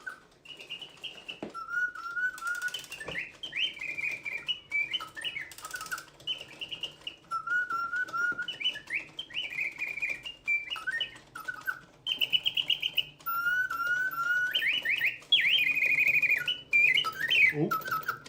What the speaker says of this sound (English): here we go with the Sevres panel singing bird.